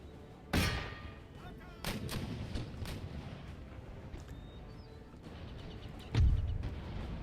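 Cannon fire from an artillery bombardment of fortress walls in Empire Total War, with two heavy booming impacts several seconds apart and fainter distant shots between them over a low battlefield rumble.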